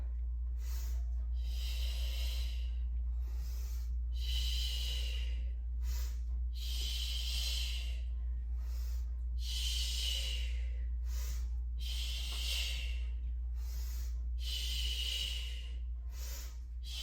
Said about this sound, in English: We're going to inhale and exhale.